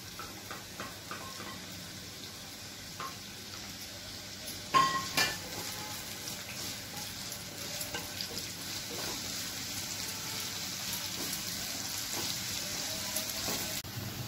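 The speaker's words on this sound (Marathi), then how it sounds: "तेल तापलेलं आहे, कांदा आणि मिरची घालून परतून घेऊया।" Onion and green chili sautéing in hot oil for a dry mini prawn dish, a steady close sizzle with occasional stirring scrapes and a brief louder clatter early on, no talk.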